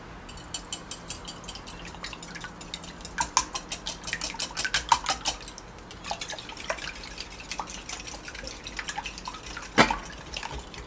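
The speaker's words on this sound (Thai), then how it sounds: "ใครถนัดเครื่องตีแบบไหนพอดีที่บ้านมันมีที่ตีแป้งอยู่ผมก็เลยเอามาตีง่ายดี" A batter whisk beats eggs in a bowl for steamed egg with shrimp, making rapid, irregular clicking and tapping strokes that come in uneven bursts, close and fairly clear.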